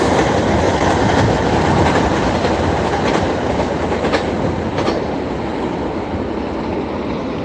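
A train rumbles past close by with steady clickety-clack of wheels over rail joints, a continuous loud roar throughout.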